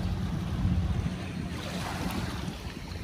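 Water gushes and churns at Dolomite Beach on Manila Bay, a steady broadband rush mixed with waves and wind buffeting the microphone, fairly loud and continuous with no voices.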